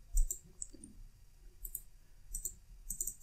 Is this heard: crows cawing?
no